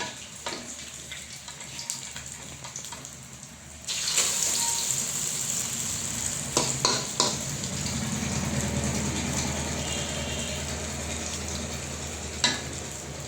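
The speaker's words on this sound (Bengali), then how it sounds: "আমি এখন ডিমটাকে উল্টিয়ে দেব।" An egg fries in a pan: after a few quiet seconds a loud, steady sizzle bursts in and keeps hissing, with occasional clinks of the utensil against the pan.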